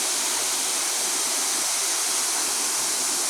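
A waterfall in Laos pours in a steady, broadband rushing roar with no breaks and no voices.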